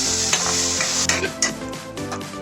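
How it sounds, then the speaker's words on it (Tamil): Ground tomato paste sizzles loudly in a hot pan of fried ginger and garlic for a meal maker gravy, with continuous frying hiss and a few stirring clinks and scrapes. "இந்த டைம்ல நம்ம அரைச்சு வச்ச தக்காளி இருக்கு இல்லையா, அதை சேர்த்துக்கிறோம்."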